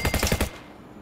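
A rapid burst of automatic gunfire in the video game Internet Simulator 2, about five or six loud, close shots in quick rhythm that cut off abruptly into quiet.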